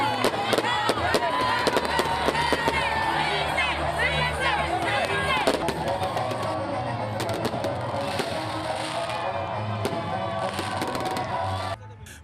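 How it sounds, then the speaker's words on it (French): Fireworks crackle and pop repeatedly through a loud New Year's midnight celebration, with a dense, cheering crowd shouting and talking throughout. "La commune doit abriter la cérémonie officielle des feux d'artifice. Quand arrive minuit, c'est la liesse."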